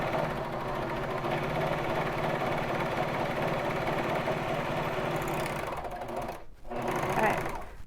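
Baby Lock Vibrant sewing machine stitching a sweatshirt shoulder seam, a steady close mechanical whir with rapid needle rhythm that briefly stops near the end, then resumes.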